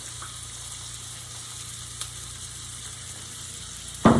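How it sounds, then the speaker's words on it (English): Olive oil sizzles in a hot pan as a steady, moderately loud crackle that holds throughout, with a louder burst of frying near the end as food lands in the pan. "we're going to put a little oil in there, a little olive oil"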